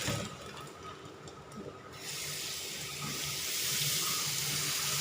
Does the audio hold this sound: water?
yes